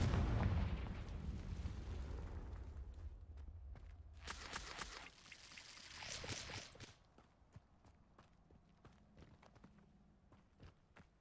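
A Confringo fire spell blast from Hogwarts Legacy sounds faintly, with a low rumble at the start, a crackling burst midway and soft footstep-like taps fading afterward.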